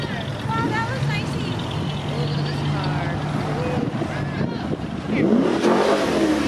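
A classic car drives past with a rising engine rev and a steady mid-range rumble, close and fairly loud, while people talk over it in a neighborhood street full of children out for candy.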